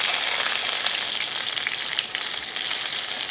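Bottle gourd balls frying in oil in a covered pan give a loud, dense, continuous sizzle that stays even throughout with no voices.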